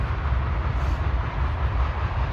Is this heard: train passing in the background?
yes